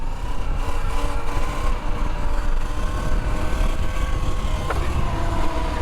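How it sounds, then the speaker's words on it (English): Surron electric dirt bike popping a power wheelie, a loud rough rush of motor whine and wind noise with a brief rising whir near the end, continuous and close. "Little power wheelie."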